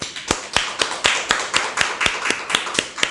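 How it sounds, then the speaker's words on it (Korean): A church congregation claps in unison for God, about a dozen sharp, evenly spaced claps roughly four per second, close and fairly loud with no talking over them. "우리 하나님 영광의 박수"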